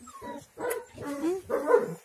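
A two-and-a-half-month-old Rottweiler puppy gives a string of soft, high barks and yips close by, with whimpers mixed in, in a quiet indoor room.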